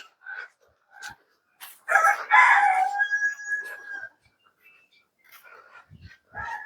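A rooster crows loudly nearby on a desi chicken farm, its long call standing out, with scattered clucks and short chicken sounds before and after.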